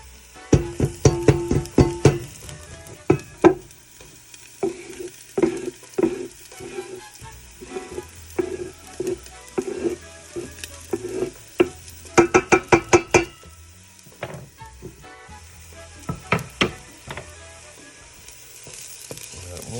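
Garlic and onions frying in a pan for an Italian red sauce, a steady close sizzle broken by repeated sharp clinks and scrapes of a utensil against the pan, with busy bursts of stirring near the middle and end.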